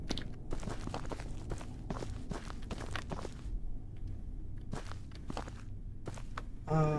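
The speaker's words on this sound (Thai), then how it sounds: "เสียงเท้าตัวเองครับ" Footsteps of one person walking through a quiet building during a paranormal exploration in Kowloon, soft regular thuds at an even pace, close and faint, against a low hum, with a brief louder noise at the end.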